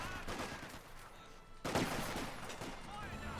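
Distant gunfire in Company of Heroes 2 during a match between the OKW and British forces, with sappers under fire; scattered shots and bursts run throughout, with a louder cluster near the middle and no voices in the clip.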